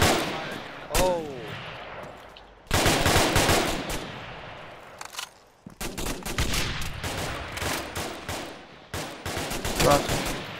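Machine gun and rifle fire in a military simulation video game set during an assault on Kamino, coming in loud repeated bursts separated by short pauses, with a brief voice heard near the start.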